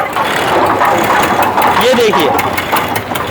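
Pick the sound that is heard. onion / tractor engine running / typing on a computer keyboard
tractor engine running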